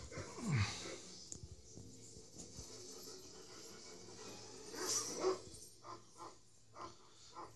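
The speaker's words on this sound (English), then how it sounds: "That's a barking doge." A dog barks in the mobile battle game Arena of Valor, a few short yaps rising out of busy game noise, with a louder cluster of barks near the end.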